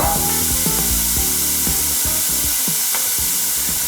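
Nasi Rawon spice paste sizzling in a hot pan alongside bay leaves, a steady bright hiss running the whole time under scattered clinks and knocks.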